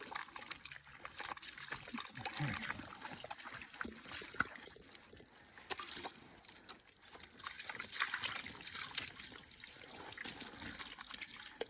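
Liquid is poured and trickles in a steady, soft, wet stream with irregular splashy surges, fairly faint and continuous throughout, alongside an octopus being handled.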